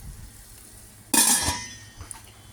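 Tomatoes and onion dropped into a hot cooking pot burst into a sudden loud sizzle that fades over about half a second, followed by a faint clink.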